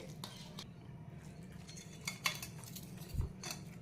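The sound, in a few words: spoon stirring curd and jaggery together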